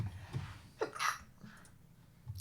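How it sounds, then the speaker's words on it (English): A person sneezes once near the middle, a short sharp burst preceded by a quick intake of breath, close and fairly loud against a quiet room during a late-night radio show. "I'm going to sneeze."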